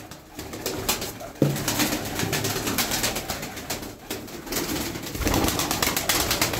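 Sütbeyaz pigeons with continuous flapping wings and fluttering close by, a dense steady rustle of feathers filling the scene with no talking.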